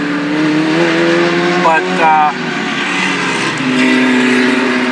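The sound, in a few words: vintage race cars on track at Mid-Ohio qualifying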